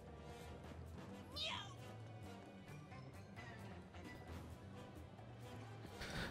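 A cat meowing in Final Fantasy VII Rebirth, one short rising-and-falling meow that stands out briefly above a busy game soundscape of music and clatter, fairly faint overall.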